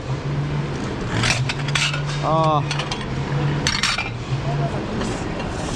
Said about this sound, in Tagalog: Ayusin natin yung mga pinggan.